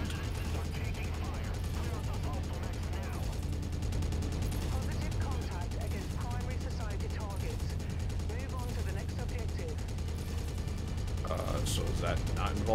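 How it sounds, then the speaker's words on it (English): Mech weapons in MechWarrior 5: Mercenaries pound buildings in a continuous, dense barrage of fire and blasts, heavy and steady throughout, with a voice talking over it. "Shooting down the buildings."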